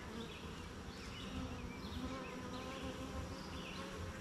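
Honey bees buzzing steadily during a beginner's hive inspection, a dense, continuous low hum from many bees close by, with no voices.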